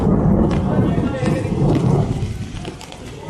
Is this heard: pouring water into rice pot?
no